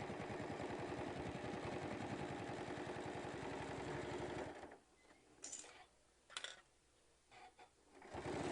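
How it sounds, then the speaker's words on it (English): A sewing machine stitches a bag with a loud, rapid, steady mechanical chatter for about four and a half seconds, then stops, leaving faint handling noises and soft clicks. "So let me get done stitching this."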